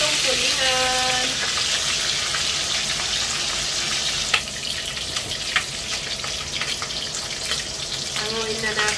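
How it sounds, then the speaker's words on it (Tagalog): Tulingan tuna frying in a pan, a steady loud sizzle with occasional pops and a few clinks of a utensil. "Ang ganda ng ating pritong tulingan."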